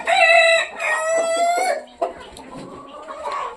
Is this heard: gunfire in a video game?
no